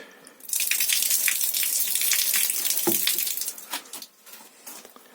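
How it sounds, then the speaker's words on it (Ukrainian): Shower water runs inside a black-style wooden sauna, a close, bright, continuous hiss of spray that starts suddenly after a short pause, stays steady for several seconds, then thins and cuts off near the end. "А отут ще й душ є."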